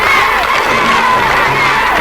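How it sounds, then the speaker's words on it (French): A flag-waving crowd with banners cheers at a demonstration in Tunis, a dense, steady roar of many voices with high shouts and calls, loud and continuous throughout. "Une foule bardée de drapeaux et de banderoles a défilé jusqu'à l'immeuble du Néo-Destour pour y acclamer le président Bourguiba"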